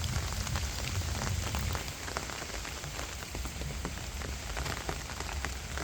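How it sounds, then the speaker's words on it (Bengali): Steady, dense rain pattering on a surface throughout, a continuous hiss of drops with no voices. "আজকে অনেক বৃষ্টি পড়তেছে"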